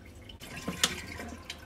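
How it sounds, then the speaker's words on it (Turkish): Drain cleaner liquid poured into a kitchen sink drain, a soft continuous trickle and gurgle with a few faint drips, close and quiet with no talking. "İçine bakın döküyorum."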